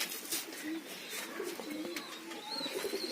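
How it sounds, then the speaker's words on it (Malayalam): Pigeons kept for training coo softly in short, scattered calls, low and fairly close, against a light background hiss with faint higher chirps mixed in. "പ്രാവുകൾ നമ്മളിങ്ങനെ ഓടിക്കും"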